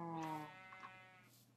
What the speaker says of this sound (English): Ooh, I got sheep. Well, hello, sheep.